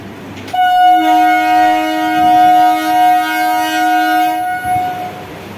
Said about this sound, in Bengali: এই ট্রেনে যাবে ক্যানিং।